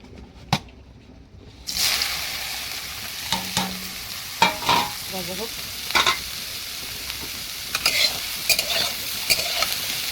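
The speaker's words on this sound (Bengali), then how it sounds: "আর কড়া বসিয়ে দিয়ে ভাজবো" Soybean chunks coated in salt and turmeric start frying in an oiled wok, a sharp sizzle bursting in after a quiet moment. Rhythmic spatula scrapes and knocks follow throughout.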